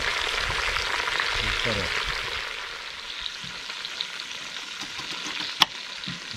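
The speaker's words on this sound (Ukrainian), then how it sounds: "Тепер хай все скверчить." Goat meat sizzling and frying in a pan for stewed potatoes, a steady broadband crackle close up, with a short spoken phrase and one sharp click near the end.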